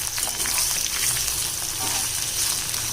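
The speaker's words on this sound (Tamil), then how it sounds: "கருவேப்பிலையை சேர்த்துட்டு நம்ம வேக வச்ச கருணக்கிழங்கு சேர்த்துக்கலாம்." Boiled yam pieces frying in a pan with curry leaves, a continuous close hiss and crackle of hot oil with faint stirring, no talk.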